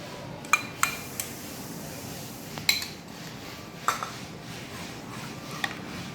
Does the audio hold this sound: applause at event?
no